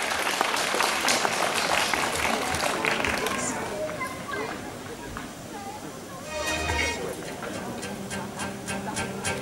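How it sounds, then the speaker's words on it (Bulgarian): Audience applause at the opening ceremony of a world draughts championship for players with disabilities, a steady mass of clapping filling the room throughout, loud and continuous with some background voices. "Не стесняйся, все тебя поддерживают бурными аплодисментами."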